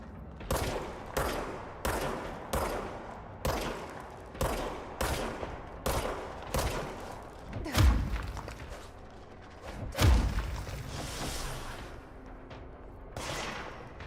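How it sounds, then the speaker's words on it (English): Gunfire in the video game Control: a rapid series of sharp, loud shots at a steady rhythm, then two heavier booming blasts with a lingering rumble and one more shot near the end. "Are they shooting now?"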